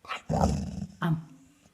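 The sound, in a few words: dog vocalizing 'am-am' on command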